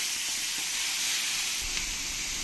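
Onion paste tipped into a pan of hot spices and bay leaf and stirred, a dense steady hissing sizzle with faint stirring sounds, close and continuous.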